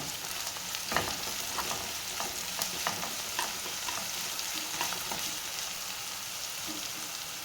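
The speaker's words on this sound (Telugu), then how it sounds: "కొంచెం అల్లం పేస్ట్ ఫ్రై అయింది కదండి" Ginger paste and onions sizzle in a pan under a steady close hiss, with irregular scraping and clicks from stirring and no speech.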